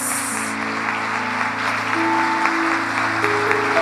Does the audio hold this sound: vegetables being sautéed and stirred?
no